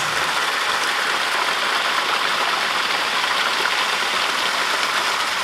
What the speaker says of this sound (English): We found a waterfall.